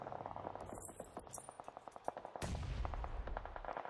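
Rapid bursts of gunfire from a PUBG Mobile match, with a steady rattle of shots followed by a heavy, roaring explosion blast that sustains to the end.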